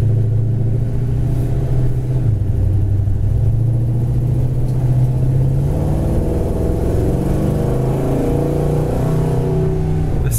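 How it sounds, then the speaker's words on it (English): A black 1972 Chevy Chevelle restomod heard from inside while driving: a loud, steady engine rumble that climbs in pitch as it accelerates, with no talk. "This thing just flies and sounds good."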